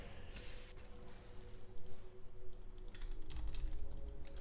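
Computer keyboard typing while playing League of Legends, a dense run of small clicks and taps under a steady layer of game sounds and background noise, fairly quiet throughout.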